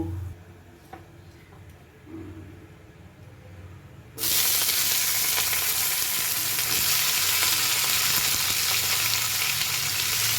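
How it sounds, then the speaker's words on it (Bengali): Dried red chillies tossed into hot oil as a tempering for tomato chutney, with a sudden loud sizzle that bursts in partway through and keeps hissing steadily and close until the end, after a quieter stretch of kitchen noise. "একটু শুকনো লঙ্কাও আমি ফোড়ন দেব।"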